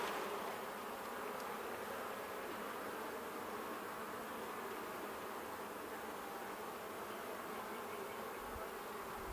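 Honeybees buzz in a dense, constant hum as they are shaken back into their hive, the swarm sound filling the whole stretch evenly at moderate loudness without any voices.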